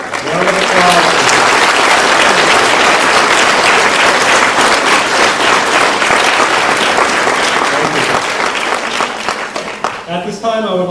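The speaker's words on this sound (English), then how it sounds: "Round of applause." Sustained applause from an audience honoring volunteers at a school spelling bee, loud and dense across the whole stretch, tapering briefly near the end as voices emerge.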